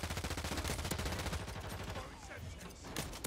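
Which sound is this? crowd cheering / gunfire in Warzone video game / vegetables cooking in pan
gunfire in Warzone video game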